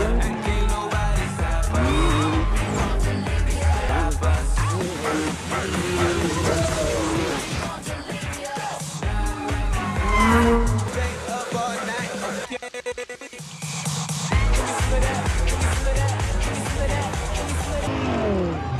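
Race car engines roaring and revving loudly in a movie scene, with rising and falling engine pitch, tire noise and background crowd babble, continuous and close throughout.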